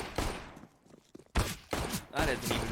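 Gunfire in a Counter-Strike: Global Offensive match, loud bursts of shots in quick succession after a quieter stretch with faint footsteps, with a voice talking over part of it.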